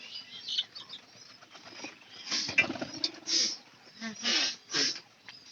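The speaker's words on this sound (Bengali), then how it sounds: "এখানে এই যে পায়রিটা বাচ্চাগুলোকে খাবার খাওয়াইতে আসছে" A pigeon feeding its chicks in a loft in the morning coos and flaps, with wingbeats and fluttering bursts near the middle and end of the stretch, mixed with light rustling close by.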